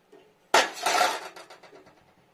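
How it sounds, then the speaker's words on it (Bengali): A spoon is pushed into a homemade Protenex-powder cake in its pan: one sharp metallic clatter, then a trail of softer clinks and scrapes fading out, close by with no talk. "সেদ্ধ হয়ে গেছে পুরো, চামচ ঢুকিয়ে দেখি দাঁড়ান"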